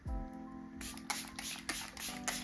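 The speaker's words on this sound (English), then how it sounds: "I'm gonna spray the face with the CoverGirl spray again." CoverGirl setting spray misted onto a face, heard as several short, close hissing bursts in quick succession over a quiet background, with no talking.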